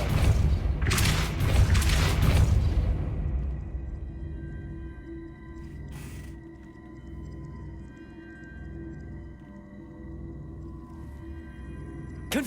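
A Depulso spell is cast in Hogwarts Legacy with a loud, booming whoosh of force in the first few seconds. It then dies away into a low, rumbling ambient drone with a brief bright hiss midway.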